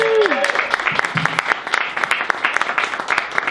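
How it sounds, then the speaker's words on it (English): Audience at a debate show breaking into applause for the panel, a patter of individual claps building after a brief tone, lively and close, with some voices mixed in. "big round of applause for my panel"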